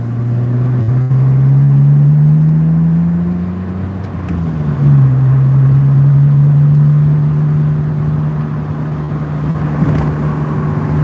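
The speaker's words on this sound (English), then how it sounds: "The car's running so good" A BMW E85 Z4 engine runs during a test drive, giving a loud steady low drone that eases off around the middle and then settles back to an even cruise, with no voices heard.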